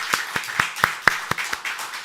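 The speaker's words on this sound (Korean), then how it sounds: "박수 한번 해주시죠." A small church congregation claps after a baptism, about eight distinct, fairly sharp hand claps in an uneven rhythm, close by, with no voices over them.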